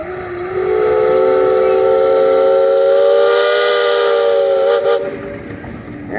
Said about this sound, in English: Kevin, you got a whistle.